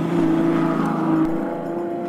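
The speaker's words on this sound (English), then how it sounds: "at lower workaday revs, the engine's note sounds almost utilitarian, like that of a UPS truck." A 2012 Ferrari FF engine runs at low revs with a steady, even drone that sounds almost like a delivery truck. It is loud and close, dips slightly partway through, and no voices are heard.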